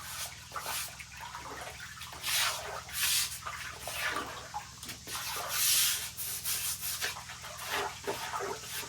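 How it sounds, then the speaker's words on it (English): A stiff brush scrubs a wet cement spring house floor in repeated uneven strokes, rasping bursts with pauses between, close and fairly quiet, with water dripping softly underneath. "Got to get it scrubbed."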